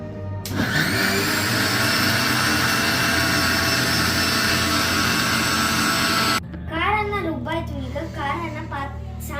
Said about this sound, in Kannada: ಈಗ ಮಸಾಲೆ ಮಸಾಲೆನ ರುಬ್ಕೊಳ್ಳೋಣ